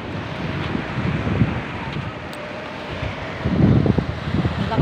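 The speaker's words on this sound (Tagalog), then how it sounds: "Lakas ng hangin." Strong gusts buffet the microphone with a heavy, uneven roar that surges louder near the end, with a wide-open outdoor feel, in Balayan, Philippines.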